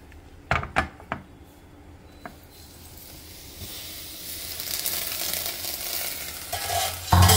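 A homemade hair oil mixture with cloves and curry leaves heats in a pot. A few sharp clinks come first, then a hissing bubble builds steadily and grows louder toward the end.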